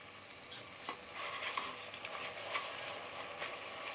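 Ginger garlic paste sizzling in hot frying oil for shrimp scampi, a steady soft crackle with a few sharper pops and light utensil scrapes close by, no voices.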